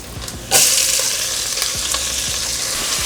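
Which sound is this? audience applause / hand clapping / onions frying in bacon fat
onions frying in bacon fat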